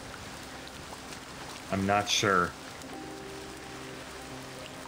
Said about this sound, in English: I made it start raining.